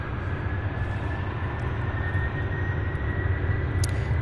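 A UPS Airbus A300-600 cargo jet at Louisville airport gives a steady, broad, distant engine roar with a low rumble, continuous and without voices.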